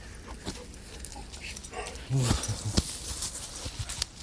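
Dogs at play letting out soft whimpers and snuffling grunts, with a few louder yelps near the middle, mixed with movement noise and a person talking.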